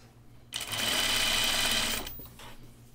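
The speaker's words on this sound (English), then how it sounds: "I'm just gonna like roll under that edge and edge stitch it" A sewing machine edge-stitches a rolled edge on a shirt dress facing in one fast, even burst of about a second and a half, starting and stopping abruptly between quieter moments.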